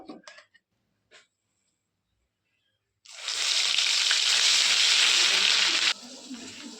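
A few faint clicks, a pause, then a sudden loud burst of sizzling as ginger, onion, garlic and green chilli paste hits hot meat-frying oil in a wok, continuing steadily for several seconds before easing slightly.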